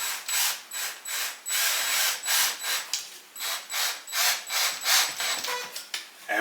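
Screws being driven into pilot holes in a one-piece wood desktop, a rapid series of ratcheting bursts repeating in a steady rhythm, close and fairly loud.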